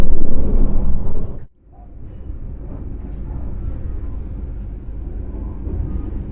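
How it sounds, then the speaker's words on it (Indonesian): KA Turangga train pulling into Madiun station: a loud, steady low rumble of rolling wheels and carriage noise that cuts out abruptly for a moment, then resumes at a lower, even level. "Perjalanan kereta api Turangga sudah sampai di stasiun Madiun"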